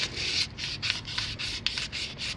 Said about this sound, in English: I always polish all my sealing surfaces like this